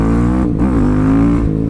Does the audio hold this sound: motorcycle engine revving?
yes